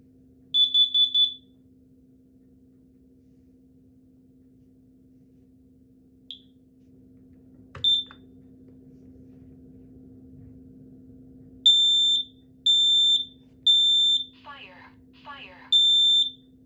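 A combination smoke and carbon monoxide alarm sounds clearly, with a quick triple burst of shrill beeps, scattered chirps, two short voice announcements, then a repeating pattern of long piercing tones over a steady low hum.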